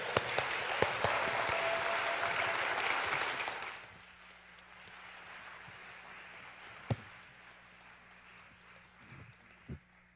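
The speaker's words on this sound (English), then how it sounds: "let's give him a big round of applause as he comes up to speak before us" An audience at a lecture hall event gives a speaker coming to the stage a loud round of applause that lasts about four seconds and then stops abruptly, leaving quiet room noise and a few footsteps and knocks.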